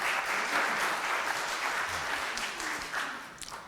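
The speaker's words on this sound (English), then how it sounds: "Big round of applause for Kevin on the organ" A church congregation at a Congregational (UCC) service applauds organist Kevin, a dense, sustained round of clapping filling the room at a steady level.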